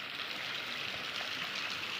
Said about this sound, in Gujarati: તો વાડીમાં વરસાદ છે નહીં અને ગામમાં વરસાદ છે